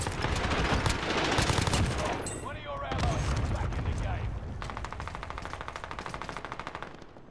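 Heavy gunfire in the video game Call of Duty: Modern Warfare, with dense automatic bursts and overlapping shots throughout, ending in a rapid rhythmic stream of rounds, all loud and close.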